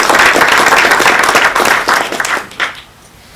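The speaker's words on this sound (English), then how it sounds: "would you give him a round of applause?" An audience at the annual town meeting of the Acton Water District applauds loudly in a dense, steady burst of clapping that tapers off after about three seconds.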